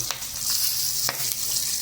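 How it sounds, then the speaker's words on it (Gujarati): A tempering of asafoetida, chopped hot chilli and white sesame seeds sizzles in hot oil: a brief, steady close hiss with scattered crackling pops. "1 ચમચી જેટલા સફેદ તલ નાખી દેશું."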